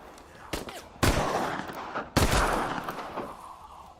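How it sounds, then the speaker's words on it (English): Gunfire in a mech combat video game: three loud, sharp volleys, each trailing into a rumbling decay, over a low background bed. "What the hell is still shooting at me?"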